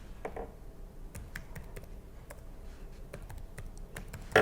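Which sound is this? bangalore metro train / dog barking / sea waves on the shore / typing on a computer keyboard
typing on a computer keyboard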